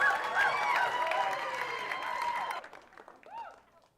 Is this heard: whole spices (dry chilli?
no